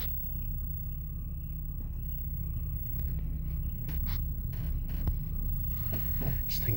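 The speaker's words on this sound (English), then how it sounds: "This thing's misfiring so bad." A misfiring Trofeo engine drones low and steady from inside the car as it drives around the block, with constant rumble and occasional clicks and knocks, and no talk.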